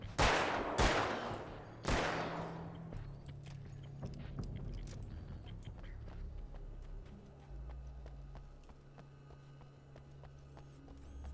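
Three sharp pistol shots in Alan Wake's American Nightmare in quick succession, loud and close with ringing tails, followed by quieter ambient rumble and faint clinks.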